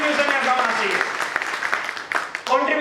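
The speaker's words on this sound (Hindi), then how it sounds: "सर जोरदार तालियां एक ही जज्बे से चलाएंगे।" Audience clapping in a training hall, a loud burst of applause filling the room, with voices mixed into it.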